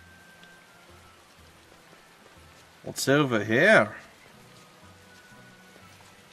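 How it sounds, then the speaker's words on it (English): Soft, steady rainfall from the video game Tales of Berseria patters quietly in the background while a person speaks briefly over it midway. "It rains so much in Westgand."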